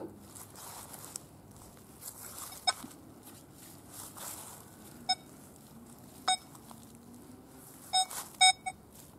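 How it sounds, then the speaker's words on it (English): A Nokta Score 2 gold metal detector gives sharp, scattered beeps during a field test in woodland, a handful of short tones spread over quiet outdoor background, with a cluster of louder bleeps near the end. "And listen the stability of this beautiful metal detector."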